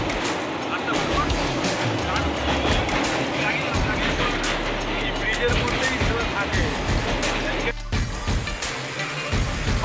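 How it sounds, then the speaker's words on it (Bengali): A train pulling out of Sealdah station rumbles and rattles loudly and steadily from start to finish, with a brief dip in the din near the end. "ট্রেন ছেড়ে দিয়েছে, শিয়ালদা স্টেশন ছেড়ে আমরা এগিয়ে যাচ্ছি সামনের দিকে"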